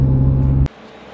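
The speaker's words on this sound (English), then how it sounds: "I'm actually driving the MR2 SW20" Toyota MR2 SW20 sports car driving, a loud steady low engine drone that cuts off abruptly partway, leaving quieter road and cabin noise.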